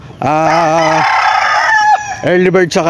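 Chickens in a Filipino breeding coop: a loud, close rooster crow followed by a second, shorter crow or cackle, with brief clucking between.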